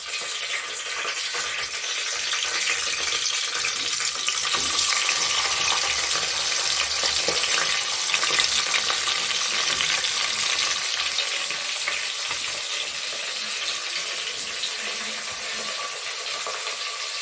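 Cinnamon and cloves sizzle steadily in hot oil in a pan for mint rice, a continuous bright frying hiss with occasional stirring, close and even throughout with no talk.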